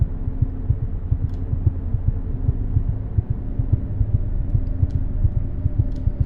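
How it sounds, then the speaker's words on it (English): A slow, steady heartbeat throbs in the horror game Everlasting, deep regular thumps pulsing over a low hum with no talking. "That heartbeat I was hearing, I don't think that was my own."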